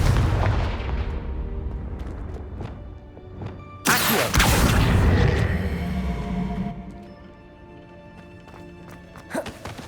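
A Confringo fire spell in Hogwarts Legacy bursts with a sudden loud booming whoosh that rolls and fades over a few seconds, preceded by scattered sharp spell impacts and followed by quieter sparkling tones.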